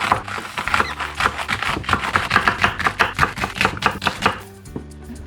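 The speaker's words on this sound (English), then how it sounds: "Chop up your green onions." A knife chops green onions on a cutting board for Grenadian oil down, a fast, steady run of crisp close taps that stops abruptly near the end.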